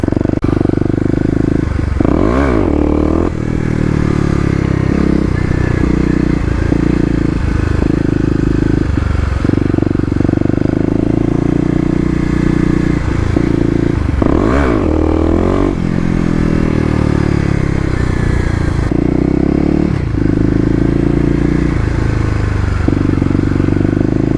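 A 2018 Kawasaki KLX250 dirt bike rides off-road in second gear on urban terrain, its engine revving up and down close by, with occasional clattering and scraping from the ride.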